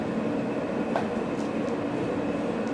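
Steady rumble and hiss of an F subway train in motion in New York City, heard from inside, with faint clicks and a brief squeal over continuous low noise.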